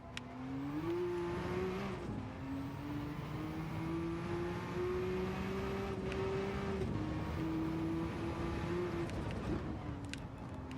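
A race car engine in Gran Turismo 7, lapping the Nürburgring, drones steadily at high revs with brief dips at gear shifts, a continuous whining tone with no talking over it.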